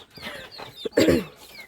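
Native country chickens in a poultry coop give a few short clucks close by, ending in one louder squawking cluck.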